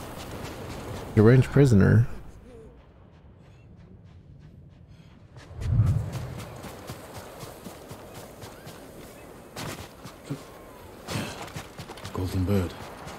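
Horse hooves clip-clopping in a galloping rhythm in Ghost of Tsushima, loud in short bursts separated by quieter stretches, with a voice speaking briefly between them.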